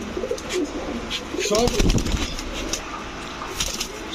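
Pigeons kept on a breeding farm, high flyers, racers and fancy birds, coo softly while wings flap in a short burst midway, with a busy background of other birds.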